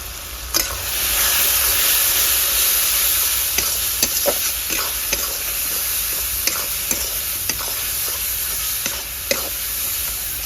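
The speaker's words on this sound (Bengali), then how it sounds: "2-3 মিনিট ভালো করে আলু গ্রেভির সঙ্গে কষে নিলাম।" Potatoes fried with turmeric, cumin, coriander and chili powder gravy, a steady loud sizzle with frequent sharp spatula taps and scrapes against the pan throughout.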